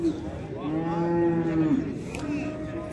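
At a livestock market, a cow with her calf gives one long, loud, close moo, followed by a shorter, softer low call.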